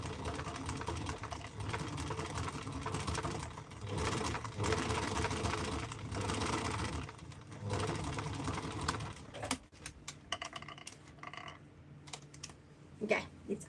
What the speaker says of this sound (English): I stitch 1 millimeter from the edge.